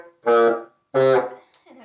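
A bassoon plays one measure of Jingle Bells, two sustained reedy notes with a brief gap between them and a softer third note starting at the end, heard up close and on its own.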